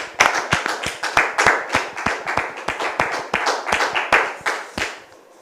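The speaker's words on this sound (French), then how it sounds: "Sous vos applaudissements, s'il vous plaît." An audience claps to welcome a visitor arriving on stage in a Christian drama, a steady run of distinct, fairly close hand claps lasting several seconds with no talk over it.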